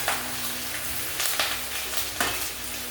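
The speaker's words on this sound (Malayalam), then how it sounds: "ഈ മുരിങ്ങയില അതിലേക്ക് ഇടുക. ഇത് നമ്മൾ ഇളക്കി കൊടുക്കുക." Drumstick leaves sizzle in a hot curry pan while being stirred, a constant frying hiss broken by a few sharp scrapes and clinks of the spoon against the metal.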